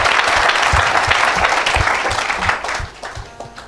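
A church congregation applauding, dense loud clapping from many hands that fills the room and then thins out and fades toward the end.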